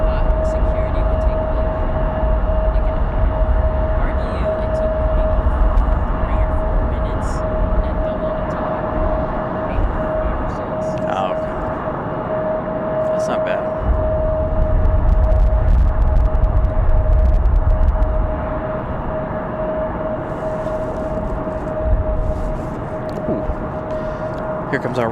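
A Republic airliner arriving from JFK at Raleigh Durham airport, heard as a steady wide jet roar on a windy day, swelling mid-clip, under a constant tonal hum and occasional clicks.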